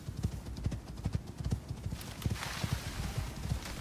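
Horse hooves clip-clop steadily in the survival game Icarus: New Frontiers, a quick, even rhythm of close, moderately loud hoof strikes, with a rising windy hiss in the second half.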